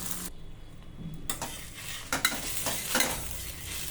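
Flatbread roasting in a pan over a medium gas flame, made from a flour-free diabetic-friendly breakfast batter with vegetables, giving a steady soft sizzle with a few brief scraping and stirring clicks near the middle and end.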